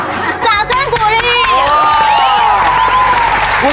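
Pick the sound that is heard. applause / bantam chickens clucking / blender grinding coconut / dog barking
applause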